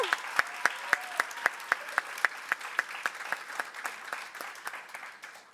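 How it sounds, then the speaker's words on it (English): Applause at a 2016 student government induction ceremony: sharp, evenly spaced claps ring out close by, then thin and fade toward the end. "Let's give them one more round of applause as we have our newly elected officers."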